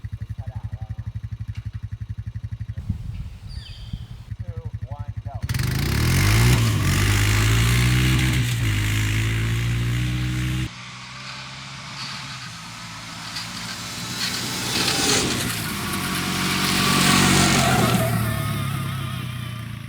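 A gas-powered and an electric Honda Rancher utility ATV race alongside a 96-volt electric YFC 450, with engine drone and revving that jump loud then ease and rise again, under occasional talk.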